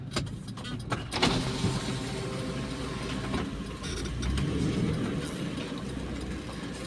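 A hearse drives at night onto a rough, broken road, rumbling and rattling steadily with a few sharp knocks and jolts from the uneven surface.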